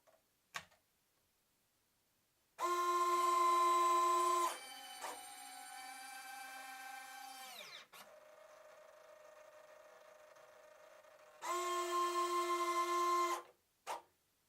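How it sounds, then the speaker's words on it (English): Retract controller cycling RC landing gear: loud whirring servo and actuator motor runs of a few seconds each, separated by quieter mechanical running and brief clicks, heard alone at close range. "the actuators are going to open, the retracts are going to close, and then the actuators and the servo are going to close again"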